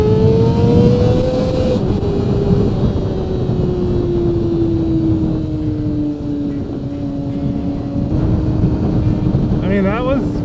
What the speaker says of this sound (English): I kind of enjoy that backfire, that pop, pop, pop, pop, pop, pop, pop.